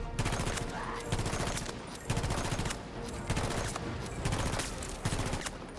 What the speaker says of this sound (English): Look how fast the rate of fire is.